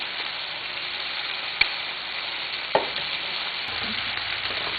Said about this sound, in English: You put the oil in with the butter to stop from burning your butter, plus a little extra flavor.